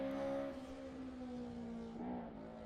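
A Honda Del Sol in the small road-going production class climbs the Craigantlet hillclimb, its engine holding a steady droning pitch that rises briefly as it passes, heard from a distance and fairly faint.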